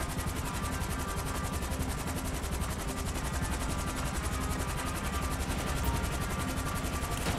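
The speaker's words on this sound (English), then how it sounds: "Land the helicopter." Helicopter flight in the video game GTA V, a continuous loud rotor chop with a rapid pulsing beat mixed with game noise, steady throughout with no talk.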